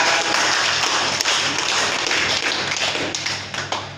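Applause for Sasa at a team welcome and farewell gathering, a loud, sustained patter of many hands clapping at once, thinning slightly toward the end.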